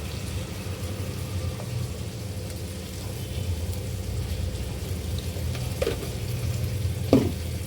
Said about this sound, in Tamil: மசாலா போட்டு சும்மா ஒரு 2 கிண்டு கிண்டிட்டு கையோட தக்காளியும் வந்து ஆட் பண்ணிக்கிறேன்